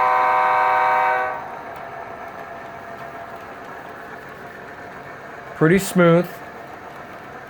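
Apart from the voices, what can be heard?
SD90MAC diesel locomotive sound, model train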